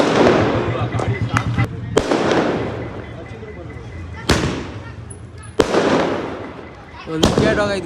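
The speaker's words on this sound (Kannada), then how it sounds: "ಒಂದು ವಿಕೆಟ್ ಹೋಗೈತೆ ಗಾಯ್ಸ್, ಅದಕ್ಕೆ ಪಟಾಕಿ." Firecrackers set off to celebrate a fallen wicket during a cricket final crackle and burst in dense volleys, with sharp louder bangs punctuating the rattling bursts, and voices talking underneath.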